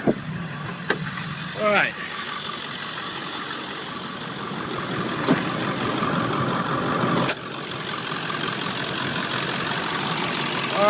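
A 2000 Ford F350 diesel 4x4 crew cab truck cranks briefly, then settles into a steady, rumbling idle that grows a little louder, with sharp clicks and a short spoken word early on.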